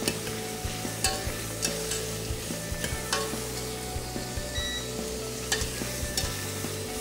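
Shellfish shells frying and being stirred in a hot pan as their liquid cooks off, with a steady close sizzle broken by repeated scraping stir strokes and no talking.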